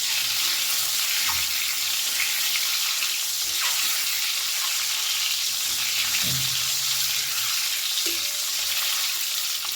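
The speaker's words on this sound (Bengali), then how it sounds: "গ্যাসের ফ্লেমটাকে মিডিয়ামে রেখে ডিমগুলো একটু ভালো করে ভেজে নেব" Eggs rubbed with salt and turmeric frying in oil over a medium gas flame, a constant close hiss and crackle with a few soft clinks of a utensil.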